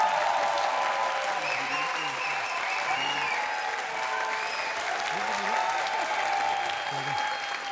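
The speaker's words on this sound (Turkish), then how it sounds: "Alkışlarınızla efendim." Steady, sustained applause from a TV studio audience on a Turkish family quiz show's New Year special, filling the whole stretch at even loudness with a faint hum of music or crowd beneath.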